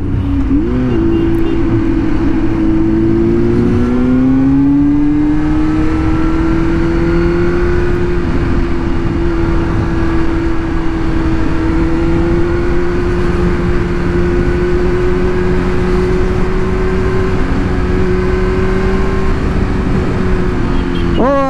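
A motorcycle cruises down the road at around four in the afternoon, a loud, continuous engine drone with a steady pitch that slowly rises, with faint talk underneath.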